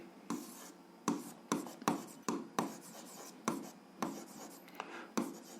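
A pen writes out an algebra solution on paper in a quiet room, with a string of short, close scratching strokes coming in quick, uneven bursts.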